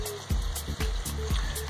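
Water trickles steadily in a fiddler crab habitat set up in a cooler, with a few louder splashy drips or plops in a loose rhythm over the constant flow, close by and without talk.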